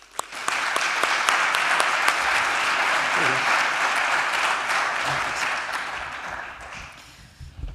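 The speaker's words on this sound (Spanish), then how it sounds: "por favor un aplauso" An audience at an energy conference applauds in a sustained, full round of clapping that starts abruptly, holds steady, then gradually thins out and fades near the end.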